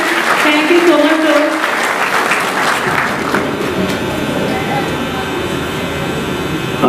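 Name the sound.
audience applauding loudly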